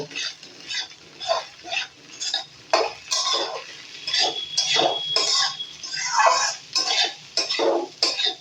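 Washed poha (flattened rice) gets stirred in a pan with a metal spoon, giving repeated close scraping and clinking strokes in an uneven rhythm over a faint background sizzle.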